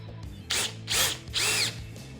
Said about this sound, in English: I can see now why this is the most powerful impact driver on the market